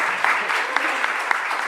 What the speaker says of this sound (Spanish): para los que les pido un pequeño aplauso